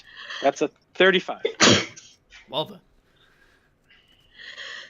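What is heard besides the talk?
a sneeze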